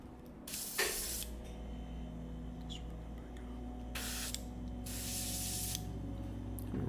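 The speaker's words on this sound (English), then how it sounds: "Okay, I'm just getting my airbrush a little bit prepped. Making sure it's spraying good." An airbrush sprays pure thinner in short bursts while being prepped for a winter whitewash paint job, each hiss cutting in and out near the mic over a steady low hum of room noise.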